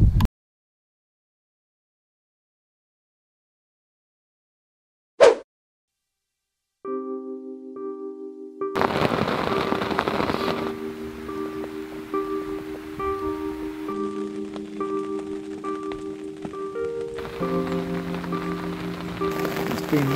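Steady rain pattering on a surface outdoors at a catfish fishery, a broad continuous hiss rising after a short quiet start and a single sharp knock, with faint tonal hum running underneath.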